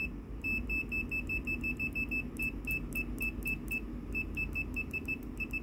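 An Aneng SZ08 multimeter sounds its continuity test, a quick series of short high-pitched beeps in three bursts with brief pauses, loud and close over faint background noise.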